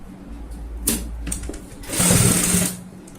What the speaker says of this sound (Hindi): अब हमें यहाँ पे सिलाई लगानी है, इस पॉइंट से लेके आएंगे सिलाई को